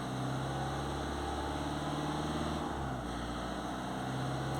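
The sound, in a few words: Citroen C4 Picasso petrol engine revving up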